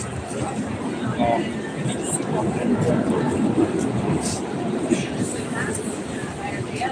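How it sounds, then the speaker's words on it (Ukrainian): An underground metro train gives a continuous low rumble felt beneath the floor, steady throughout over a busy ambient background with faint scattered noises. "Коли їде потяг метро, чутно, гурки такі під ногами."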